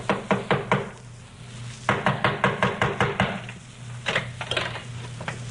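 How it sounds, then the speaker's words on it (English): Knuckles rap on a door in three insistent clusters of about four to seven quick, close knocks each, a staged radio-drama sound effect with short pauses between the clusters. "Someone knocked on the door."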